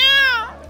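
A single drawn-out cat meow in Roblox Bloxburg, loud and close, sliding downward in pitch and fading at the end.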